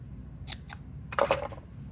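Scissors snipping the tails of a ribbon bow, two quick light snips followed by a louder, closer double cut, crisp and brief against a quiet room.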